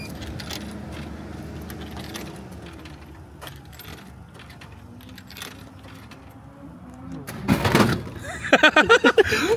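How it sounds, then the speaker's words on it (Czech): Coins drop into a Japanese vending machine, a quiet rustle and a clunk building to a quick run of bright metallic clinks and jingles near the end. "Koukejte, jo? Hodíte mince."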